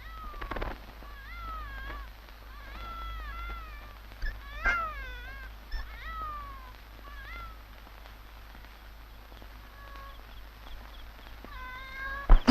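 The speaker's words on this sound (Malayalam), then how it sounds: "ഞാൻ പറഞ്ഞല്ലേ പൂച്ചയായിരിക്കുമെന്ന്." Repeated cat meows, a hungry cat crying inside a chapel, with several drawn-out calls spread across the stretch over a low steady hum and no talking.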